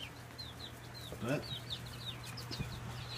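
Chickens on a small property give a series of short, high peeping calls and soft clucks at moderate distance, with a brief spoken word in the middle.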